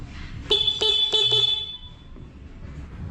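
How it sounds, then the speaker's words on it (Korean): A Vespa Primavera or Sprint scooter horn sounds in several short, nasal beeps close by. A final faint toot follows over low background noise. "하단부 스위치는 크락션, 일면 빵빵이고요"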